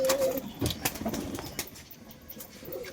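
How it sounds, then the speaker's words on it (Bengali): Roller pigeons flap their wings in a loft, producing several sharp, close flutters and thumps in irregular bursts, with a brief coo at the start. "সব শুধু দুমদাম করে আওয়াজ হচ্ছে পায়রার খেলার আওয়াজ"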